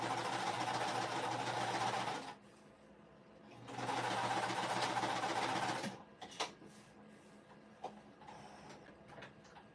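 A sewing machine stitches pet bandana fabric in two steady motor bursts separated by a pause, close and fairly quiet, followed by light handling clicks.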